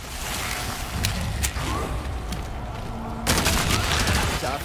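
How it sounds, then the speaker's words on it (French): Gunfire from a weapon in a video game, a few sharp cracks standing out against a continuous noisy background with a sudden louder burst near the end. "Je vais tirer une balle là vraiment?"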